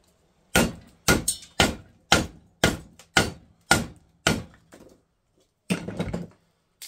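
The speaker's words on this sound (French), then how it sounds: "avec un marteau, je fais un coup dessus pour nettoyer un petit peu" About ten sharp hammer blows strike scrap metal stripped from a CRT television. Each clanging hit rings close and loud, falling in an uneven rhythm with brief pauses and a quick closing flurry of strikes.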